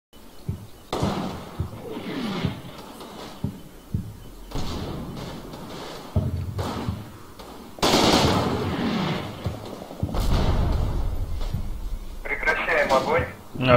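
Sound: heavy machine gun fire in video game Combat Mission Red Thunder

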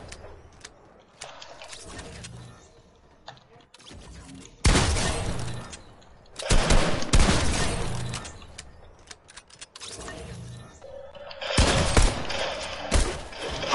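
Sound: gunfire in a shooting video game

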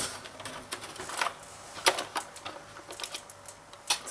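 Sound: keys of a GSD-1988 Famiclone computer keyboard being handled

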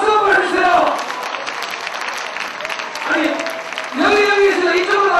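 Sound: audience applause

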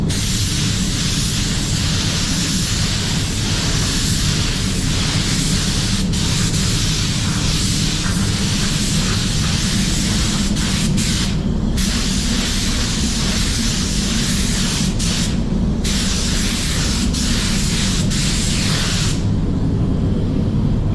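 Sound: spray painting a second coat on Audi A6 part

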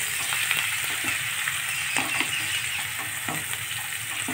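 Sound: chopped onions frying in a pan

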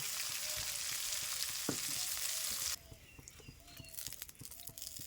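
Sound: oil heating and sizzling in a pan

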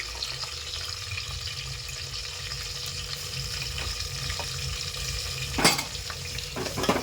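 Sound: onion and tomato frying in pan for chicken biryani

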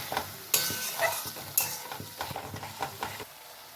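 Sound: frying spice paste with tomato for paneer curry

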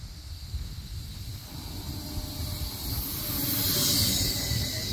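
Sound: train arriving at the station

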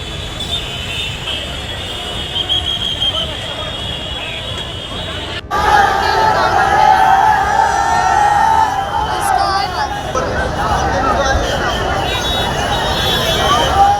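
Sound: angry crowd gathered on the road after accident

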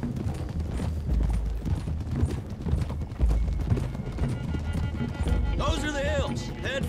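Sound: horses galloping on a road in a video game

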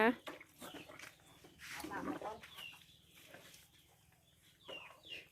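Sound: chickens clucking

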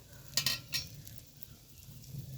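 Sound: egg dish sizzling in a little oil

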